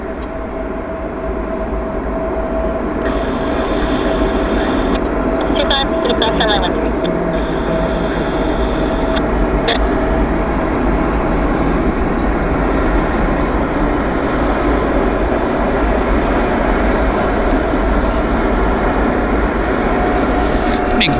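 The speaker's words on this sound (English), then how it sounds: "Fast taxi on this aircraft. Very fast taxi." Aircraft taxiing fast at Vancouver airport: a steady, loud broadband engine roar with a sustained whine, continuous throughout and heard from a spotting position, with a person talking over it at times.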